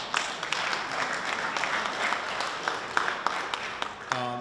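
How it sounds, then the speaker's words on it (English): Audience applause, a sustained patter of many hands clapping at moderate volume, fading into a brief voice at the very end. "go ahead and applaud for that."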